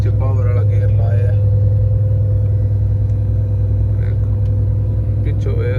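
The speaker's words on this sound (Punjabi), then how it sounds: "ਮੱਠੀ ਮੱਠੀ ਚੜ ਰਹੀ ਹੈ ਚੌਥੇ ਗੇਅਰ ਵਿੱਚ ਪਾਵਰ ਵਾਲਾ ਗੇਅਰ ਲਾਇਆ" A loaded truck carrying marble or ceramic climbs a long hill slowly in fourth gear at about 20 km/h, its engine giving a loud, steady, labouring rumble throughout while someone talks over it.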